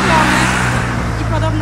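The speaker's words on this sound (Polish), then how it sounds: "Niesamowite przeżycie przejechać przez taki tunel." Car driving through the narrow one-way Pitve-Zavala tunnel on a Croatian island, a steady close engine drone with road rumble, loud and continuous.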